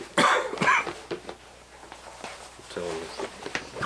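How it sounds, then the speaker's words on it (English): Several sharp coughs, loud and close, come in a quick burst near the start and again toward the end, with quieter background noise and light movement between them. "Coughing."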